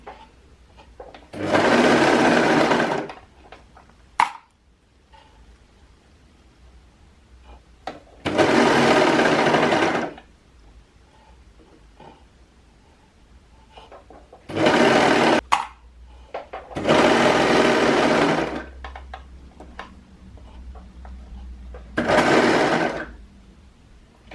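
A sewing machine stitches True Bias Hudson pants in five separate bursts of steady whirring, each a few seconds long, with quiet pauses and fabric handling between them.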